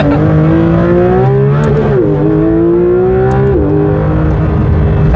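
Lamborghini Murcielago SV V12 engine revving loudly on a road drive, a strong steady drone with pitch sweeping up and down, dipping and climbing again twice, close and dominant with no talking.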